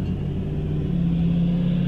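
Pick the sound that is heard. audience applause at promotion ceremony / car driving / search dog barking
car driving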